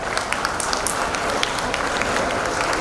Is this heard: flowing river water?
no